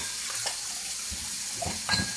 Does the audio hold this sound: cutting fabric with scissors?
no